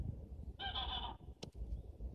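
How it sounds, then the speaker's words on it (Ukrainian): Geese at a small snow-covered city lake in Munich give one short, faint honk followed by a brief sharp call, heard against low ambient noise. "Гуси."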